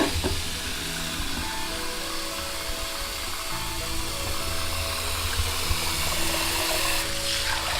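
Water runs steadily over a film developing tank in a continuous, even splashing rush that lasts throughout, close up with no voices.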